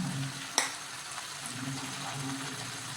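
Mango pickle mixture is stirred in a frying pan, giving a soft, faint sizzle with light scraping and one sharp clink of the spoon early on.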